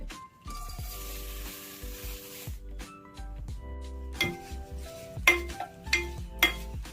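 Paper aval (flattened rice) dry-roasting in a kadai, with a steady sizzle and scraping stirs plus sharp metallic clinks of a spoon against the pan, growing louder toward the end.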